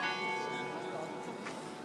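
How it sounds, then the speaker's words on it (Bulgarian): A church bell ringing on a walk through Vienna, a sustained metallic tone with lingering overtones, faint and distant, briefly heard amid background ambience. "Някой е хванал камбаната и..."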